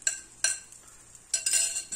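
Vegetable tortilla ingredients dropped into an oiled frying pan over medium heat, two bursts of sizzling and clattering contact separated by a short quiet gap, close and with no talking.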